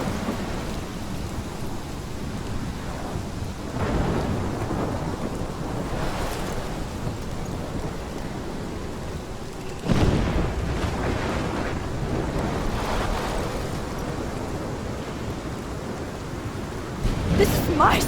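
Thunderstorm in the video game Life Is Strange: steady heavy rain with rolling thunder, a sharp thunderclap near the middle and another rumble at the end, moderately loud throughout.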